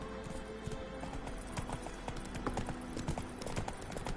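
Roach, Geralt's horse in The Witcher 3, trots with a steady, rapid clip-clop of hooves, close and continuous, over a low ambient bed with faint background noise.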